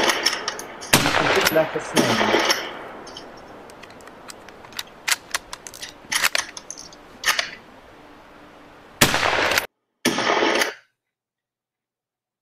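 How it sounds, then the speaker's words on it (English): Boer Mauser rifles fire rapidly in a film recreation of the 1900 fighting near Ladysmith, with sharp loud cracks coming singly and in quick clusters, separated by quieter gaps and a brief spoken phrase. "what I want you to notice is the speed of firing of the Boer Mauser and the complete lack of smoke"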